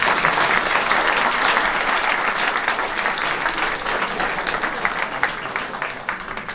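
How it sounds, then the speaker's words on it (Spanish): Loud, dense applause from an audience at a book presentation event, honoring the Jockey Club authorities, filling the room continuously and fading slightly toward the end. "eso merece un aplauso enorme para las autoridades del Jockey Club"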